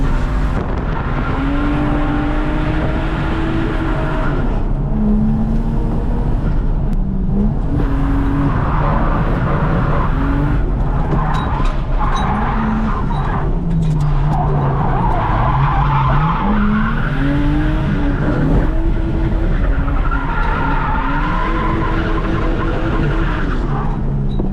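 A turbocharged Lexus IS200 drifts on a track, its engine roaring loudly and continuously with rising and falling revs while the tires skid and squeal throughout.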